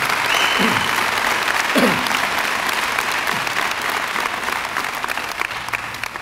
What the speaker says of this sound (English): How about a nice round of applause for our active duty and veterans